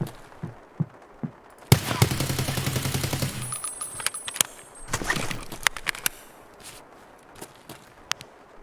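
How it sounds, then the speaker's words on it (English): Suppressed AK-101 rifle fire in the game Escape From Tarkov: after soft footsteps comes a dense, rough burst of muffled shots, followed by more scattered sharp clicks and steps, fairly distant and with no speech. "Sounded like 2 separate silent AK shots, though."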